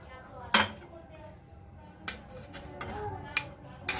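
Chopped tomatoes and cucumber drop into a bowl of onions for a salad, giving sharp clinks and clatters of utensils against the bowl, spaced irregularly over a quiet kitchen background.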